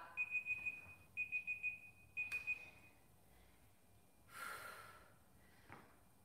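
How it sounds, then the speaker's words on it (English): A workout timer beeps in three quick bursts of repeated high electronic tones, each group followed by a pause, then goes quiet apart from faint room sounds and breathing. "There goes the timer."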